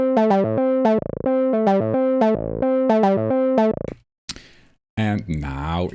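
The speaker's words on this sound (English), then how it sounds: "True Iron by Kazrock" True Iron synth plugin by Kazrock, processed with EQ and compression, plays a bright, buzzy repeating melodic sequence of short notes for about four seconds, then a brief glitchy burst, followed by a voice talking.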